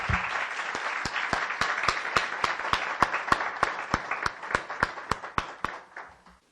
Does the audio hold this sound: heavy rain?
no